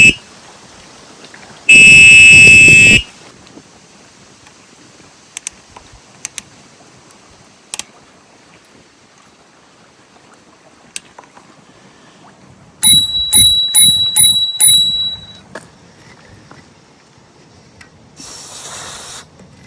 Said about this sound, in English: the bike also features an electronic bell, and it is very loud